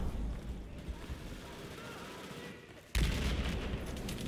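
MP7 submachine gun fire in the video game Battlefield 4, a dense continuous roar of rapid shots that drops briefly, then resumes louder and sharper for the final second.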